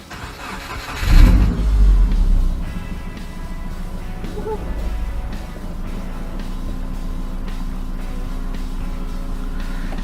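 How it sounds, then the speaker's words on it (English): A Subaru Impreza is test-started after fuel pump and PCV work: a loud cranking burst catches, then the engine settles into a steady, close idle hum that continues to the end. "this is kind of like a test start of the vehicle."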